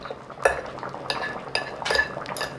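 A fork shredding cooked black bean soup ingredients in a crock pot gives a few scattered metallic clinks and scrapes against the pot, fairly close and without talk.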